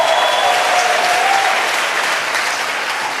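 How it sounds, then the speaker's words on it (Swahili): A church congregation at a Sunday revival service bursts into loud, dense applause and cheering, holding steady for a few seconds before easing slightly. "Makofi na shangwe kwa Yesu."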